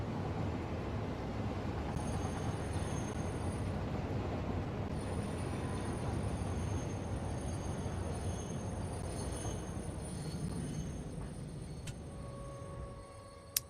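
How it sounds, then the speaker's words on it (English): A steady rumbling train ride in the Satisfactory video game rolls on continuously with a low, even drone, a faint squeal near the end, and no talking. "Hope you enjoyed the train ride."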